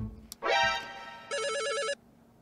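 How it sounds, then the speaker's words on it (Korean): A ringing tone plays in a phone app for an incoming call from a goblin character. It sounds as a short sustained electronic chime, then a warbling ring burst of about half a second, clear and close with no talk over it. "무려 전화가 옵니다"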